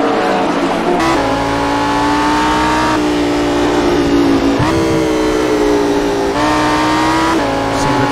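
GT race cars, including a Lamborghini, scream around Virginia International Raceway with sustained high-revving engine notes that shift as gears change, loud and continuous with tire noise into a turn, beneath a commentator's voice.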